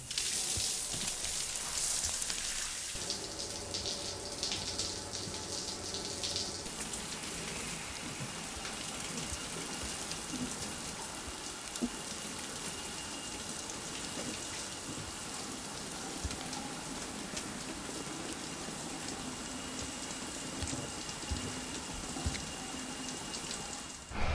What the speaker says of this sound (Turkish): Bir duş alalım.